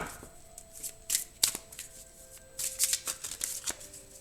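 Béline revisité oracle cards are shuffled by hand and split into three piles, giving soft riffling bursts and light card slaps at close range, with no talking.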